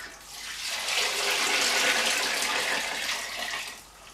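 Sugar water for pumpkin wine is tipped into a bucket, a steady rushing pour that swells to a full splashing gush and then eases off, close and alone.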